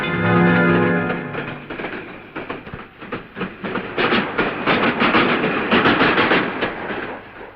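Steam-era train pulling into a station in an old Telugu film scene, a low rumbling hum at first giving way to rising rhythmic clattering of wheels and carriages, loud and close, with no talk.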